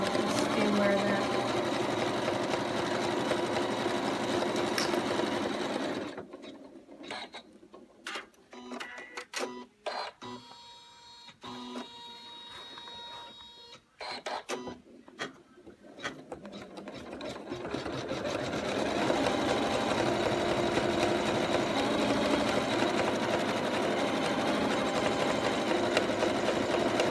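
An embroidery sewing machine stitches out the first hoop of a bunny design, a steady close mechanical whirring that thins into sparse, irregular stitching for a stretch before the full dense running sound returns.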